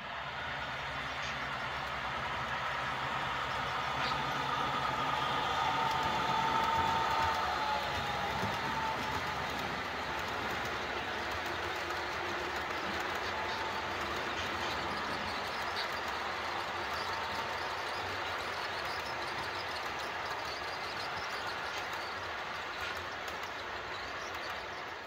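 A model railroad coal train rolls along the layout with a faint continuous rumble and light clatter, steady and without talk.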